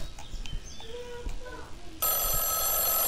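A telephone starts ringing in the horror video game Mothered, a steady electronic ring that cuts in abruptly after some game sounds and a short chirp.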